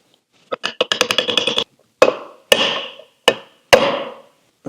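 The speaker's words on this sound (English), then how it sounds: "I'm just going to gently put it in the hole here, and then driving it into the socket" A bearing set with medium Loctite being driven into the flywheel socket during a Scout restoration clutch assembly: a rapid run of about a dozen light metallic hammer taps, then four loud, spaced ringing blows, close and clear with no talking.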